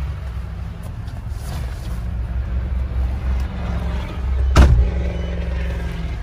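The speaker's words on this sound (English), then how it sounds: "Let's take you guys on a short test drive" A 2012 Ford F-250 Super Duty pickup truck driving on a test drive, with a steady low engine and road rumble throughout and a brief louder thump midway, heard from close by and without speech.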